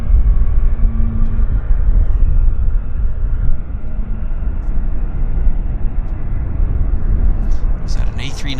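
An Airbus A319 airliner at Vancouver Airport roars loudly and steadily throughout, a broad continuous engine rush that stays close and fades only slightly, with faint speech near the end.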